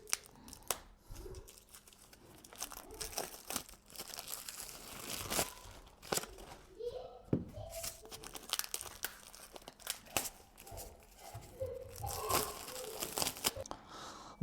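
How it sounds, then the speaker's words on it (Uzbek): Plastic film packaging is peeled off Nero 7 Pro reverse osmosis filter parts, with close, irregular crinkling, rustling and short tearing bursts that come and go. "Paketlarini o'tishish kerak hammasini."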